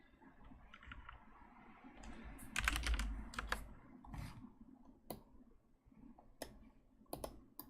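Quiet, close computer keyboard typing comes in short clusters of key clicks, a denser run in the middle and then scattered single taps with gaps between them, and no voice is heard.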